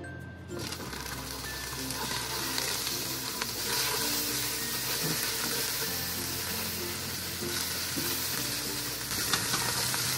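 Striped bass fries in a pan, giving a strong continuous sizzle close up, with scraping and stirring noises scattered throughout.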